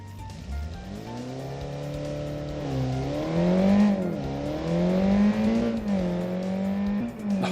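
In the BeamNG driving game, a roughly 300-horsepower car revs hard with a whining, rising and falling engine tone, while tire squeal streaks through the cornering, loud and sustained.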